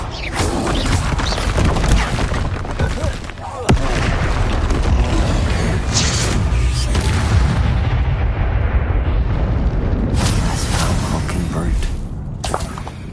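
Confringo spell explosions in Hogwarts Legacy: loud, crashing blasts and booming debris over a constant heavy din of combat, with a voice talking over it.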